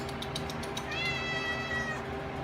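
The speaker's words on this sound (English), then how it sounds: "You got the brew cat here, Sophia." A house cat during an electric home-brewing session gives one drawn-out meow in the middle, close and clear over a steady equipment hum, after a few soft ticks at the start.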